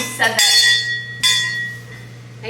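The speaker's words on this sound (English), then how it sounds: "It has like the thing on the back that says Bevan Patio Garden Bell." A Bevan patio garden bell rings loudly twice, each strike sharp and bright with a long ringing tone that sustains and decays, followed by a third faint strike at the end, heard close up indoors.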